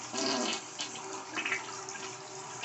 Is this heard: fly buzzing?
no